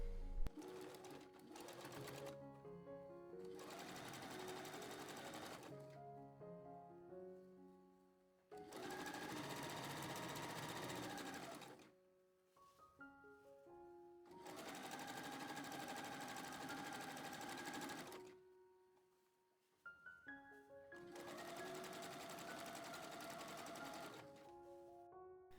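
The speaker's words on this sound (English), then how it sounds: "So let's take this to a sewing machine and sew all the way down, all the way around." Sewing machine stitching a skirt seam all the way around in several long steady runs of fast mechanical whirring, separated by short pauses, heard close and fairly quiet.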